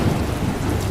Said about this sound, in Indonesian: Hujan turun sangat deras. Petir dan kilauan kilat terlihat menyambar-nyambar,